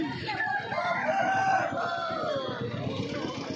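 Chickens at a Saturday-morning poultry market in Uluberia, with clucks and calls carrying steadily through a busy, noisy stall area, while a voice talks over the birds.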